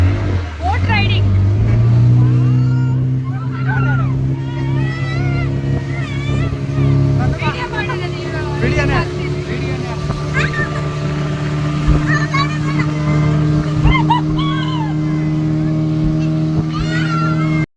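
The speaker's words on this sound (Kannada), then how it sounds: "Boat riding." A motorboat engine drones steadily through a boat ride at Malpe, a continuous close hum under frequent talking voices.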